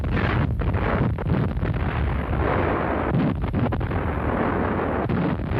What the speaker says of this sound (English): The artillery struck at the start of turn 3, wiping out Zul's infantry on the hill and severely pinning the other squads